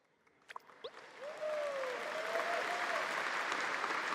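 Audience applause at Gamescom Opening Night Live breaks out after a few sharp isolated claps, then swells into steady, broad clapping from a large crowd that holds to the end, with a faint tonal sweep beneath it.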